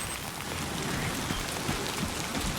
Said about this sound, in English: Timefall is a lot heavier in this game.